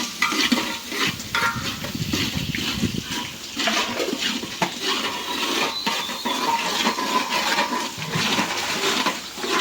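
Garlic paste frying in a hot pan, a loud, busy crackling sizzle broken by frequent scraping and stirring strokes of a spatula, continuous and close, with no voices.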